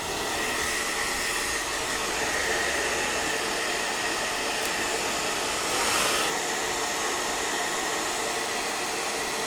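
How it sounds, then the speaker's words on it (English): A handheld hairdryer blows steadily on eyebrow glue during makeup, a close, constant broadband whoosh that holds for the whole stretch with a slight swell near the end. "I will just use my hairdryer again."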